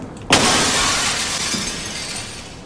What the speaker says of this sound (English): We break the glass.